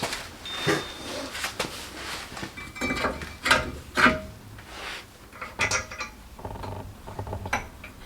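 A jack raises the second side of a Land Rover Discovery 2 during a wheel bearing job. It gives off a string of irregular metallic clicks and clanks, some close and sharp, with brief gaps between bursts.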